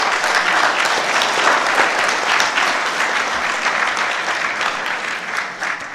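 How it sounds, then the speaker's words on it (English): An audience applauds panel speakers at a blockchain conference, giving a full, steady burst of clapping that stays loud for about six seconds and then begins to fade. "Please give them a warm round of applause."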